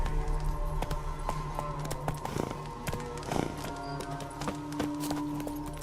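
Roach, the horse in The Witcher 3, gallops along with a rhythmic clatter of hooves under the game's background sounds, with a few louder thumps mixed in.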